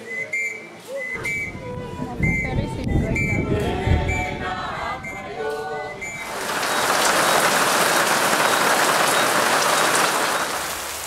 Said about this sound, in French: Il pleut encore d'ailleurs.